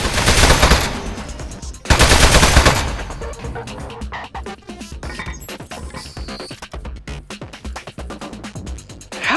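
Automated turret gunfire in the Aperture Desk Job video game, loud dense bursts at the start and again around the two-second mark, then trailing into scattered clicks and lighter game sounds.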